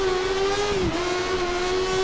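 A Formula 1 car engine in the F1 2013 video game holds a steady high-revving whine at full revs, with a brief dip in pitch partway through, then resumes at a constant loud drone.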